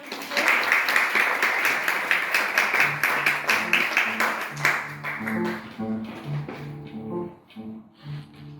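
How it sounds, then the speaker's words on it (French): Audience applause for the actors at an afternoon opera performance in a theatre: steady clapping from many hands fills the first few seconds, then thins out as sustained musical tones rise beneath it. "Un petit applaudissement pour les acteurs,"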